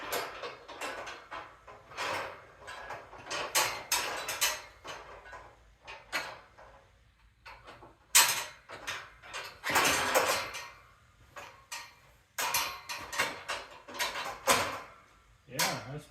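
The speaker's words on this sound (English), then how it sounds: "So let's fold all this up here and see how this works." A Yintatech 36-inch metal work basket is folded up by hand: scattered clanks, slides and latch-like clicks of metal parts at close range, with short bursts of talk in between.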